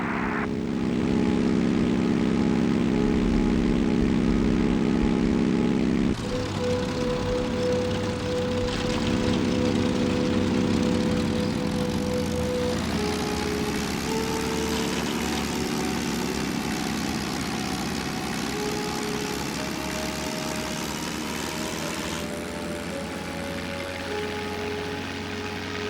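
A WWII propeller fighter plane in the Heroes of the Pacific video game roars steadily as it takes off, its engine drone holding loud and continuous with shifting tones as it throttles up and climbs.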